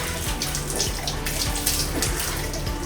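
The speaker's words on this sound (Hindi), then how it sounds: "यहाँ पर बोटी धोई जा रही।" Pieces of meat being washed under a tap while cooking for Eid, with steady, close running water splashing continuously throughout and no talking.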